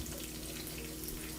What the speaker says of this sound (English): I constantly wash my hands as well when I'm doing, before touching anything else